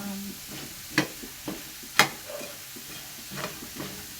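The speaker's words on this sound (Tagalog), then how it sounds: "Prito natin yung patatas." Potato pieces frying in hot oil in a home kitchen, a soft steady sizzle punctuated by a few sharp clinks and scrapes of stirring, close by.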